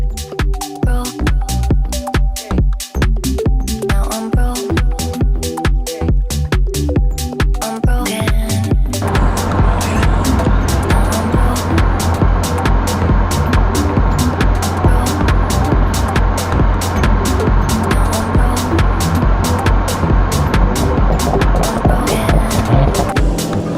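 An Audi S4 engine pulls hard under load while driving, a dense, loud, continuous drone that thickens and roughens partway through as revs climb, with no talking.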